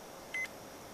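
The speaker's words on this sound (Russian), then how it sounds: "Пищит, пищит." A DEEPGEOTECH magnetometer gives a single short electronic beep as it detects a small object, a clear steady tone standing alone over faint background hiss.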